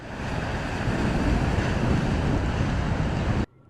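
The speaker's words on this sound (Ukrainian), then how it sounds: "У протоці Босфор здійнялися великі хвилі." Storm waves and hurricane-force wind on the Bosphorus strait roar in a dense, continuous wash of surf and gusts, loud and unbroken, then cut off abruptly.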